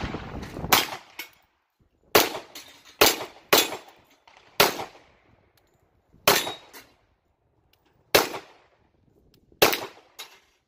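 Sig Sauer P220 pistol fired at a shooting range: about eight sharp, loud shots in irregular succession, each with a short echoing tail and quiet gaps between.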